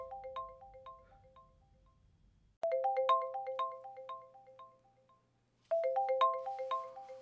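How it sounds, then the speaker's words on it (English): A mobile phone ringtone plays a repeating bright melodic pattern of chiming tones in three bursts, close and clear, with short silences between, as a mother calls. "Mum's calling me. Don't answer it."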